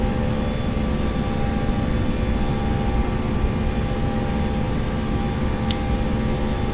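Jet engines in a flight simulator airliner hold a steady, loud, broadband roar with a low rumbling floor throughout, and a brief rising whine cuts in near the end; no talking is heard.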